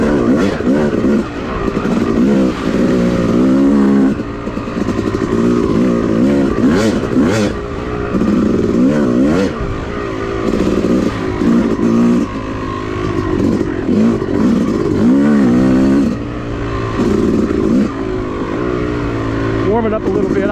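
A Yamaha YZ dirt bike is ridden hard along a wooded OHV trail loop. The engine is loud and close throughout, revving and surging as the rider shifts and the throttle rises and falls.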